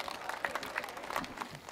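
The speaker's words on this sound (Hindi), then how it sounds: "जोरदार तालियां।" Applause from an audience at a Hindi kavi sammelan poetry event, a quiet, steady wash of many hands clapping with some scattered crowd noise, fairly distant and low in level.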